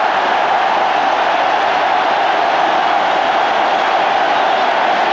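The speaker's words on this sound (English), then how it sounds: "There you can see the crowd jubilation when Waqar disturbed the castle of Andrew Hudson" A large cricket crowd at the 1996 World Cup match between South Africa and Pakistan roars loudly and continuously after Waqar bowls Andrew Hudson, a dense, sustained wash of jubilant cheering.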